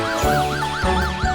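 A police siren wails in rapid up-and-down yelps, loud and close, repeating several times with a low engine rumble underneath.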